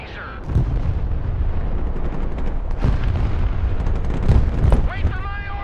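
Rocket artillery in the military strategy game Broken Arrow fires in a steady, loud rumbling barrage with several sharper booming launches, and a radio-style voice talks briefly over it near the end.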